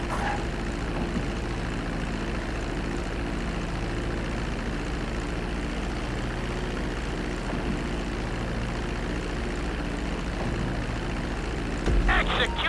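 Airplane touching down and rolling along a runway in GTA 5, a steady loud engine drone with low rumble holding throughout, ending in a brief clatter near the end.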